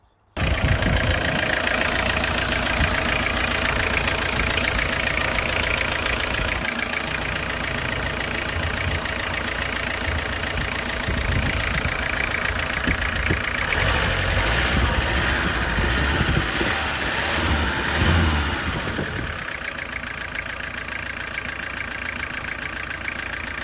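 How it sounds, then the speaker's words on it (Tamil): A Tata Sumo diesel engine runs steadily at idle with slight rises in revs, a loud, close, continuous mechanical rumble with knocking texture throughout. "இன்ஜினோட நாய்ஸை இப்போ லைவாக காமிப்பாங்க"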